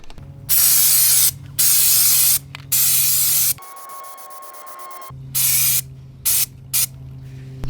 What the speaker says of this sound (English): when I'm spraying degreaser, which I'll spray right in this area so I can really get it coated